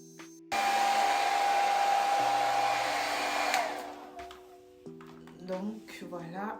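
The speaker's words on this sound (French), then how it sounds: "je vais venir sécher ma perruque parce que elle est encore mouillée" A hair dryer blows steadily on a still-wet wig, its loud whooshing airflow running for several seconds before cutting off, followed by someone speaking.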